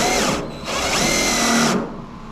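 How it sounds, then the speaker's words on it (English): A power drill with a countersink bit widens screw holes for new LED lights on a 1981 Dodge D150 pickup, two whining bursts close by with a short pause between and no talk. "I'm just slowly just adding a little countersink section so these screws don't stick out as far."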